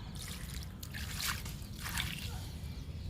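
Water trickles and splashes onto soil in a bucket holding curry leaf plants, in a couple of short pours, with soft squishy, wet sounds close by.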